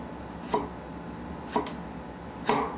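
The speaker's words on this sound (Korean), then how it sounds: "바닥면을 한번 일자로 고르게 다져주고, 그 다음에 아주 칼끝으로 얇게," A knife slices ginger thinly on a cutting board, striking three times about a second apart. The cuts are crisp, close and sharp against a quiet background.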